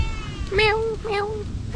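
A cat gives two short meows at a chilly lakeside campsite in Pangalengan, Bandung, moderately close and heard over a steady bed of outdoor background noise.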